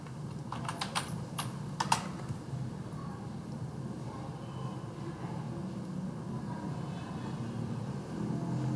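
Typing on a computer keyboard while entering details into billing software: a short cluster of quick key clicks near the start, then a steady low hum fills the rest.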